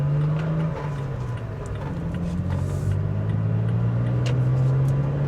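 A 2020 Toyota Tacoma pickup driven on the road in four-wheel drive, a steady low engine drone heard from inside the cab with engine pitch shifting slightly, plus faint interior ticks and rattles, no talking.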